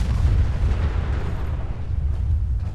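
Several robots blow up at once in Fallout 4, a loud, sustained rumbling blast with dense low booms rolling on for a few seconds and no voice over it.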